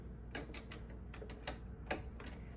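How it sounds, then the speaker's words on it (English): Presser foot clicked back into place on a Brother ST531HD sewing machine, a few faint, close mechanical ticks and snaps of plastic and metal parts over a quiet low hum, with no talking. "I'll put the presser foot back on"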